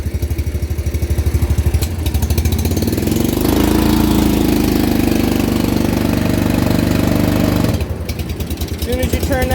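A Dixie Chopper mower engine runs loud and close with a rough, pulsing idle, then its tone deepens and strains as the blade PTO engages and the engine bogs down under load before recovering to a choppy idle.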